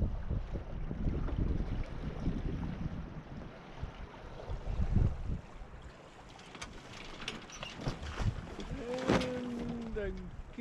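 Gusting wind buffets a small sailboat under solo sail, a steady roar with rising and falling surges, mixed with water wash around the hull and a faint voice partway through.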